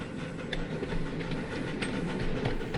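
A miniature railway train rolls steadily around the Ravenglass workshops, giving a continuous rumbling run with light rhythmic clacking, moderately close and fairly quiet.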